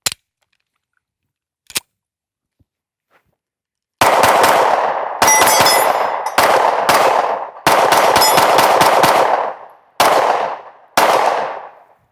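A Sig Sauer P320 XCARRY Coyote pistol fires a string of loud, sharp shots outdoors after a quiet start, the reports coming in quick close groups with ringing decay between them.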